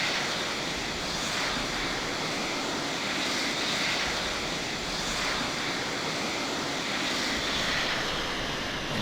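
A jet engine roars steadily and loudly in the Falcon 4.0 flight simulator game during a low-speed training mission, a continuous broadband rush with slow swells and no talk.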